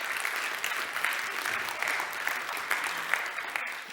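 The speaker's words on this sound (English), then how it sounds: "Big round of applause and welcome on the stage" An audience at the EUREKA Innovation Week conference claps warmly to welcome speakers onto the stage, a dense, even round of applause that holds steady for a few seconds with a faint crowd murmur underneath.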